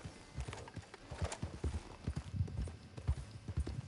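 Horse hooves clip-clop at a steady walking pace on a path in the Red Dead Redemption 2 video game, soft rhythmic thuds heard up close without speech.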